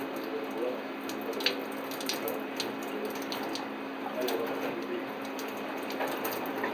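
A poultry gizzard is rinsed under a running kitchen tap, giving a steady, close wash of water with small clinks and rattles throughout and no voices.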